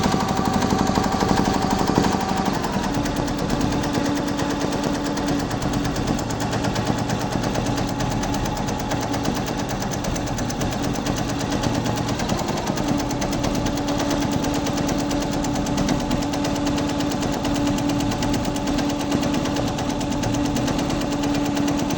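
An embroidery machine stitches a mirror work design with a rapid, steady mechanical chatter and a motor hum that runs loud and close, unbroken and without speech.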